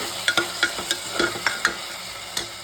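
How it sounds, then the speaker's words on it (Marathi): A spoon scraping and clattering through peanuts and potato pieces in a pan, a quick series of sharp clicks over a soft sizzle. "त्यात मी शेंगदाणे आणि बटाटे टाकून घेते आपण आता व्यवस्थित मिक्स करून घेऊयात"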